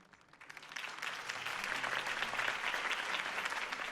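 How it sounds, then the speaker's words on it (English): A crowd applauds at a Harvey Dent campaign rally in Batman: The Telltale Series, clapping rising quickly from quiet into a steady, dense burst. "could have heard that applause"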